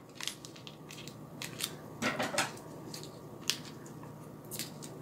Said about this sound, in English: I do need to cut the tape so I can get this opened